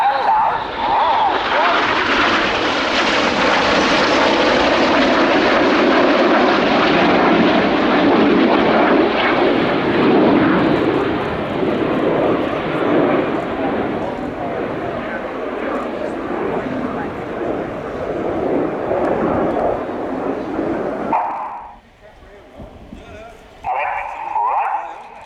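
Red Arrows jets fly inverted through the corkscrew manoeuvre at an air tattoo, a steady loud jet roar sustained for most of the stretch before dropping away sharply near the end, with a commentator talking throughout.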